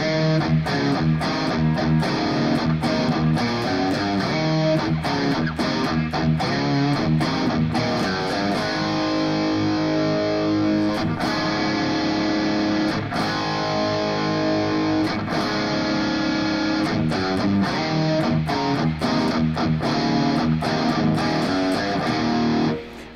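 Distorted electric guitar plays the E-key intro to a song, loud and continuous with steady strummed chord hits and sustained tones throughout, no voices.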